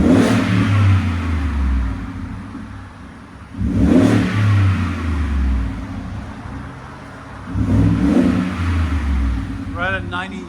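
A 2018 Ford F-150 pickup with a 5.0L Coyote V8 and a Borla Sportsman exhaust revs in three separate bursts, each a deep, fairly loud rise in engine note that settles back between pulls, with a brief faint squeal at the end.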